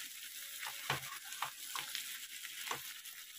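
Mutton pieces fry on a stove, a close, crackling sizzle with bursts of stirring and scraping every half second or so, fairly quiet and without voices.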